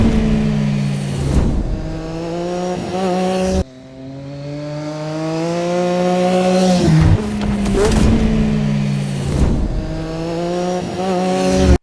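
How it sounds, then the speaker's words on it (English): Loud engine roars sweep past, with rising and falling pitch as vehicles speed by, one cut off abruptly before another passes near the end. "I add panning sound effects on the motorcycle passing"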